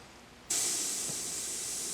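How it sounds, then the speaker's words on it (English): After a moment of quiet, a small airbrush compressor kicks on and runs with a steady, airy hiss. "this is the compressor while I talk at a normal volume"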